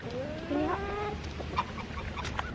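An Old English game bantam rooster gives a few throaty clucks and warbling calls against steady outdoor background noise, close and moderately loud.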